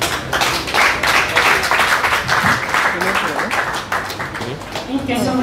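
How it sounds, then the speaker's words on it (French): Guests clap at a civil wedding ceremony, a loud, close burst of hand claps with distinct individual strikes that carries on steadily, with voices mingling beneath it. "On les applaudit."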